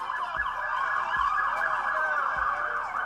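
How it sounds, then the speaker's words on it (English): Emergency sirens wail continuously in overlapping tones, steady and fairly loud, with a few soft low thumps underneath. "Listen to the sirens."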